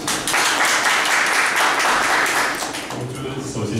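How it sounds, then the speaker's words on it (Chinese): An audience at a talk applauds to welcome a speaker, a dense burst of clapping that gradually thins, with a voice starting to speak underneath near the end. "那我们再热烈掌声欢迎他。"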